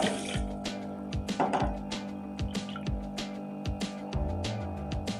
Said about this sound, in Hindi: दो कप पानी शामिल कर दिया।